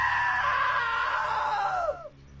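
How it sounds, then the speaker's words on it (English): A loud drawn-out scream from the video game What Remains of Edith Finch, rising then sliding downward before cutting off abruptly into quiet room tone, with no talking. "Now that was a great scream."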